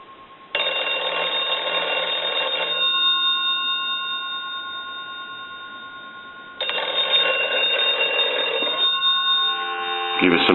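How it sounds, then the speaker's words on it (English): An antique Kellogg crank wooden wall telephone's mechanical bell rings loudly in two long bursts separated by a pause, harsh and metallic, close by. "we're going to go ahead and ring the telephone again"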